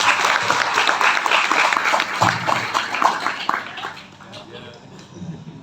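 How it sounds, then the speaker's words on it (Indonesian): A crowd at a school Maulid Nabi celebration applauds with dense clapping that gradually fades out, with some voices mixed in. "tepuk tangan buat beliau"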